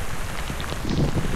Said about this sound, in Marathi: बघा पाऊस बघा